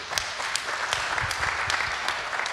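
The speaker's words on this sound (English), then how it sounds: "Applause for Michiel" Sparse clapping from a small audience at a lightning talks session, a handful of distinct claps at an uneven rhythm, fairly quiet.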